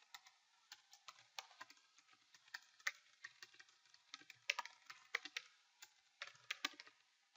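Steady typing on a computer keyboard, a quiet, irregular patter of individual key clicks with brief pauses between short bursts, close and alone.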